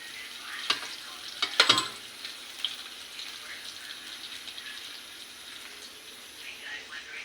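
Vegetables in a pan being stirred, with a few sharp scraping clatters early on over a low, steady sizzle that continues faintly afterward.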